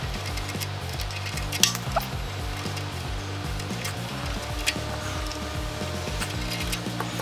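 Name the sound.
bolts being loosened and removed from a Simpson pump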